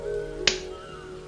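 A single quick hand clap imitating lightning crashing overhead, one sharp crack in an otherwise quiet room.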